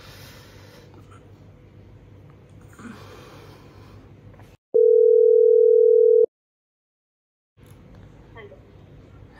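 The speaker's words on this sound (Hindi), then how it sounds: "पूरे 10 कॉल लगा लिए, अभी तक फोन नहीं उठा रही है।" A phone call goes unanswered: a single steady electronic phone tone sounds alone for about a second and a half, then silence. Breathing and background noise come before and after.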